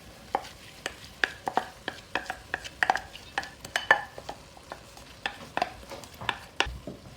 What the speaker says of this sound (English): So now you can add your soaked lentils that you've drained.